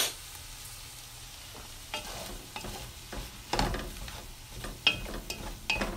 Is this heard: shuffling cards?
no